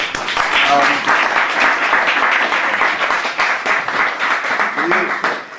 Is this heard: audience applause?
yes